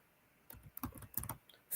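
Keys tapped on a computer keyboard in a quick burst of clicks, close and fairly quiet, with short pauses between strokes and no voices.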